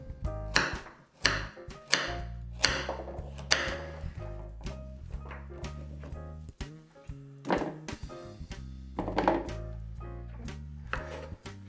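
A knife chops stew ingredients into big bite-sized pieces on a cutting board, a series of firm, irregular thunks with short pauses between cuts, close and clear with no talking.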